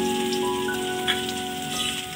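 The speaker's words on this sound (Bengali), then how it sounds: "তেল গরম হয়ে গেছে, তেলে দেওয়া হয়ে গেল রসুন" Garlic drops into hot oil while a Bengali pangas fish curry is being made, giving a dense, steady, close crackling sizzle that continues on its own for a couple of seconds.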